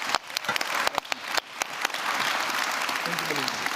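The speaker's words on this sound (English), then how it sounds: "Let's give them a very warm round of applause, please, ladies and gentlemen." Audience applause at the closing plenary of an international transport forum, a dense wash of clapping from a large seated crowd with a few sharper claps up front, steady and sustained across the clip.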